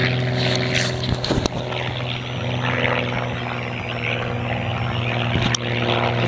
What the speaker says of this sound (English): Plane, check that out.